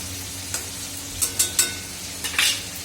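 Eggplant frying in a pan while being stirred and turned: a steady low sizzle with a few sharp scraping strokes of the spatula, close and fairly quiet.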